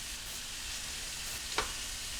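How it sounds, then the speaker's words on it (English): Ground beef sizzles steadily in a coated pan, a constant hiss of frying with a brief scrape as a chopping tool breaks up the meat, alone without talk. "breaks up the hamburger really well here"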